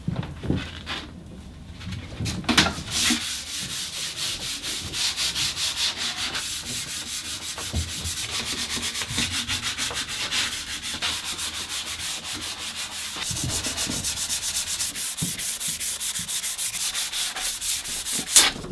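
Rhythmic sanding strokes scrape back and forth across wooden furniture outdoors, loud and close, with birds chirping faintly in the background.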